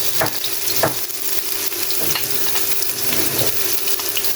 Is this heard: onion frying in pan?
yes